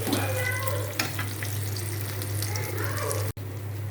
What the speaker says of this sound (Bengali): এখন হচ্ছে আমি মাছ ভাজতেছি।